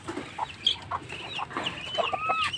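Chickens cluck nearby in a series of short, uneven calls, with a few higher squawks overlapping toward the end.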